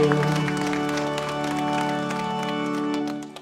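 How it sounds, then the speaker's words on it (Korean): A church congregation claps during a Sunday worship service, the patter running under sustained music with held tones for the whole stretch, moderately loud and fading slightly at the end. "우리 주님께 영광의 박수 드리겠습니다"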